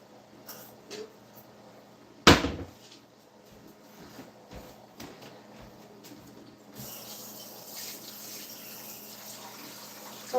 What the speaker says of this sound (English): Sorry guys, I just got to wash my